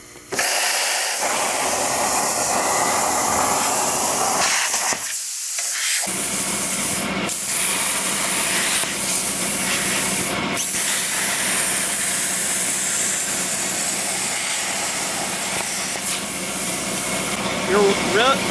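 Hypertherm PowerMax 45 plasma cutter cutting metal for a steering modification on a 240sx: a loud, continuous roaring hiss that runs for most of the span, broken by a few brief gaps.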